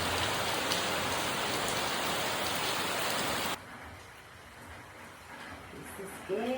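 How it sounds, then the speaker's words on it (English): Steady hiss of heavy rain during Hurricane Melissa in Jamaica for a few seconds, then it cuts to a quieter patter of rain with a voice starting near the end. "Rain again."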